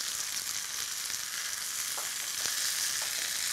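Scallions sauté in a pan with a steady, bright sizzle of hot oil, close and continuous, with a few faint clinks or stirs partway through.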